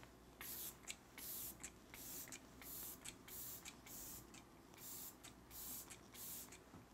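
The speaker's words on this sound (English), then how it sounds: "I think I'm gonna use this guy actually from Glow Recipe, the Watermelon Glow Ultra Fine Mist" Glow Recipe Watermelon Glow ultra fine face mist sprays in a rapid series of about a dozen short, close hissing pumps, evenly spaced with brief gaps between them.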